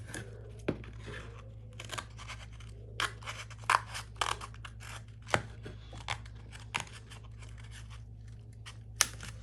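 Scissors snip through a cardboard toilet paper core to make a box flap, giving a series of faint, sharp clipping cuts at an irregular rhythm against a quiet background.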